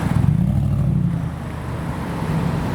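A Ferrari 355 sports car engine roars nearby at a car show on the road, a loud steady growl that eases slightly midway.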